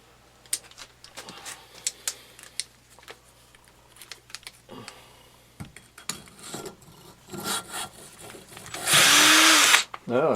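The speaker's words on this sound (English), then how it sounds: "and use the drill and go up and down" Drill spinning a stone cylinder hone up and down inside an oiled cylinder of a 1974 Honda XL70 engine, short clicks and handling noises, then a loud sustained whirring grind near the end, with a voice.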